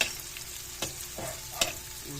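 Garlic sautés in a hot pan with a continuous low sizzle, punctuated by a couple of sharp spatula scrapes and taps, heard up close without any talking.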